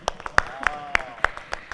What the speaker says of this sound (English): Team Kerala, a big round of applause